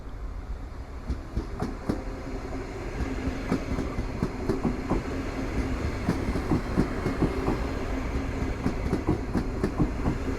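An Intercity train named Dąbrowska, running Białystok to Wrocław Główny, passes close by in Warsaw with a steady rumbling roar and repeated clickety-clack of wheels over rail joints throughout.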